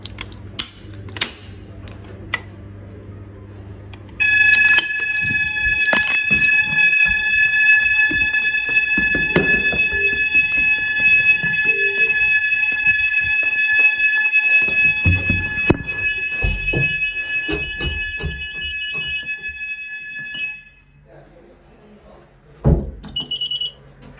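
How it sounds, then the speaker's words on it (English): A pub's fire alarm sounds during a test, a loud sustained electronic tone with steady harmonics that starts abruptly, holds for about sixteen seconds among clicks and knocks, then cuts off. "Pub fire alarm testing part 1 of 5."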